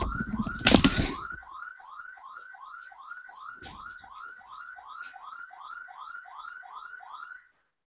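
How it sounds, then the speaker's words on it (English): House alarm going off, a rapid series of repeating warbling chirps at a steady rhythm, moderately loud, following a brief thump at the start and then cutting off abruptly. "That's house alarm going off."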